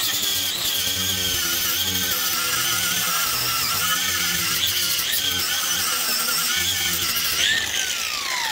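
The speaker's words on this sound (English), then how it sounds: "So I'll just hit it with a wire wheel again" A wire wheel grinds steadily on a truck's leaf spring bracket, a loud continuous high-pitched whine and rasp that holds without a break for several seconds with slight shifts in pitch.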